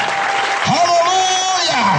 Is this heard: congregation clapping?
yes